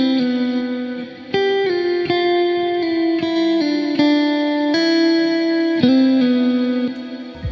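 An electric guitar played through an atmospheric high-frequency booster plugin in Ableton Live, sounding bright sustained chords and notes that change about every second, loud and close with no talk.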